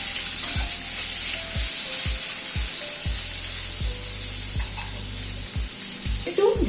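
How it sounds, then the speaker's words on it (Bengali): Chopped bottle gourd stirred in a hot pan after a spice tempering, giving a steady bright sizzle throughout with a series of soft spatula scrapes and knocks against the pan. "লাউটাকে একটু নাড়াচাড়া করে নিচ্ছি।"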